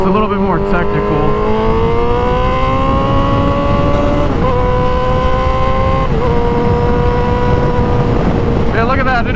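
A Yamaha R7 motorcycle engine revs hard and shifts up through gears without the clutch, each shift a quick dip in pitch before the engine climbs again. It sounds loud and steady, with wind rushing over it.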